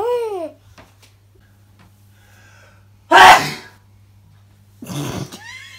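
A single loud, close sneeze bursts out in a quiet home, followed shortly by a second sharp sneeze-like exhalation, with faint babbling and a low steady hum in between.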